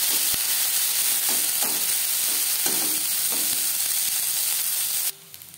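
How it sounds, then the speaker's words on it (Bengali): Potatoes, cauliflower, beans and peas are stirred in a pan, giving a steady close sizzle with soft periodic scraping strokes of the spoon; it ends abruptly in quiet. "আলু ও ফুলকপির সাথে শিম ও মটরশুঁটি বেশ ভালো করে মিক্স করে দেব।"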